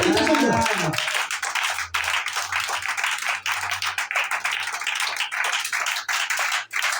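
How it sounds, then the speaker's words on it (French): Church congregation clapping hands steadily throughout, a loud continuous patter of many hands filling the room, with a brief voice at the start. "Acclame la main si tu comprends"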